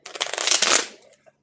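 A single quick shuffle of tarot cards, a brisk papery riffle lasting about a second, close and fairly loud, with no speech.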